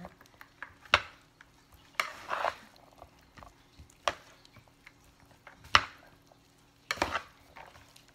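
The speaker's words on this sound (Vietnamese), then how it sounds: "Cái mình trộn lại thì cái bún của mình nó ngon." Vegetarian noodles being tossed with stir-fried vegetables, scattered soft scrapes and clatters of utensils against a bowl in irregular bursts, close and fairly quiet.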